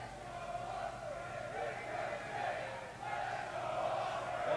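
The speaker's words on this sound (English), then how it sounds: "Listen to this crowd in Newcastle, fired up for the Pro Wrestling World Cup Finals." A fired-up wrestling crowd in Newcastle roars through a Pro Wrestling World Cup Finals semi-final, a dense, sustained wall of cheering and shouting that swells in waves.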